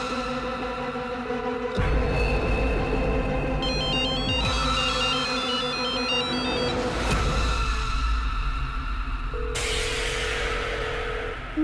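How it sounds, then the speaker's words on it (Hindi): A phone rings from inside a locked room, giving off repeated electronic ringtone trills in bursts, along with steady tonal hum and a rush of static near the end. "फोन अंदर बज रहा है"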